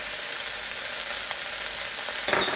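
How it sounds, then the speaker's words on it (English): Squid sautéing in a hot wok with black bean sauce, Shaoxing wine and dark soy gives a continuous soft sizzle, with a brief louder stir near the end. "And we'll saute. So the heat is going to heat up the squid."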